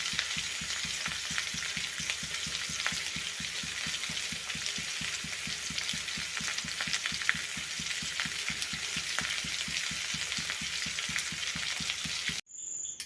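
Cumin seeds frying in hot oil over a low flame, a dense, steady crackling sizzle that holds evenly for about twelve seconds before cutting out abruptly.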